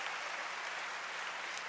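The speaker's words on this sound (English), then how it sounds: "Another round of applause for those teachers and those grade levels and those kids." Applause from an audience honoring teachers, grade levels and students at a school district's opening-of-schools celebration: a dense, steady wash of clapping that stays even and fairly faint throughout.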